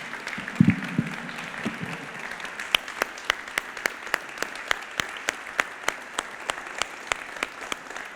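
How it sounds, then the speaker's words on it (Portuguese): A church congregation at a Sunday service claps in a slow, steady unison rhythm, sharp evenly spaced claps over a faint room murmur after a brief stir at the start. "Dê uma salva de palmas para o Espírito Santo"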